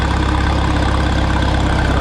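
The engine of a long-stored Minneapolis-Moline 4 Star tractor runs at a steady, loud, close idle with an even low rumble throughout.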